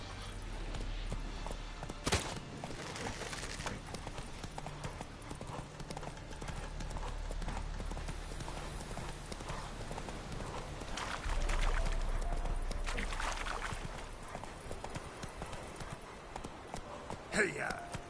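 Roach the horse in The Witcher 3 clip-clops steadily at a walk through most of the stretch, the hoof beats mixed with game ambience and music, and a voice speaking over them.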